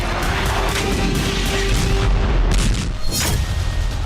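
Heavy tank and artillery cannon fire rumbles continuously with deep booms and crackling blasts, loud and dense throughout, with no voices.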